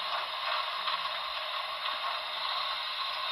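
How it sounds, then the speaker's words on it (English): Air pump sound from a Broadway Limited Paragon4 sound decoder in an NYC Commodore Vanderbilt Hudson #5344 model steam locomotive: a steady, fairly loud hissing, mechanical chuffing noise that holds evenly throughout without pause. "That's supposed to be air pumps."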